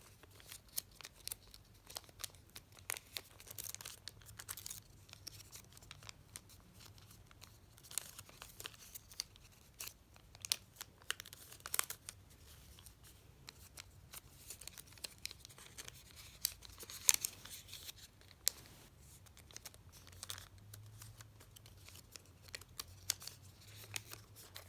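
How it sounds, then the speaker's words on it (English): Sheets of origami paper being creased and folded by hand, soft intermittent crinkles and sharp little rustles scattered across a quiet background, close and faint. "do the same thing with folding the triangles and performing the squash fold"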